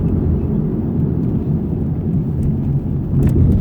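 A Ford Mustang with a stock-tuned 3.7L V6 drones steadily as it drives, a low, continuous engine rumble heard from inside the car with no talking.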